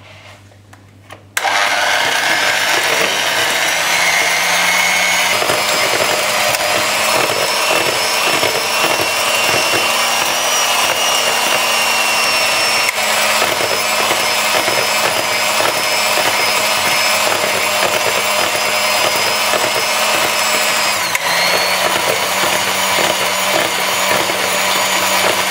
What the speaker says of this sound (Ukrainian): І збиваємо.